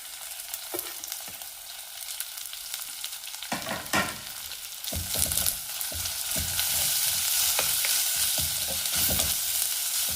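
Crushed shallots, ginger and garlic hit hot oil in a pan for a fish curry, a quiet sizzle that jumps into louder, bright frying with stirring scrapes, then settles into a steady crackle.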